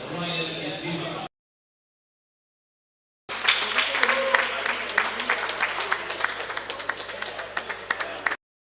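A golf tournament audience at the Karen Open applauds the top seed, a dense burst of clapping lasting several seconds after a brief stretch of talk and a pause.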